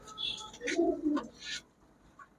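Pigeons at a market stall give a few soft coos close by, moderately faint, fading toward the end.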